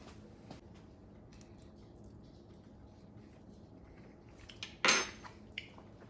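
Spoon scraping and clinking through a thick pimento cheese mixture in a bowl, a soft steady rustle with one louder clatter near the end, close and fairly quiet.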